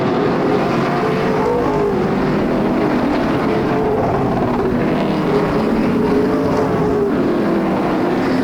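Pro Late Model race cars racing at Flamboro Speedway, a loud, continuous engine roar with shifting pitch as the pack circles the track, steady and dense throughout with no gaps.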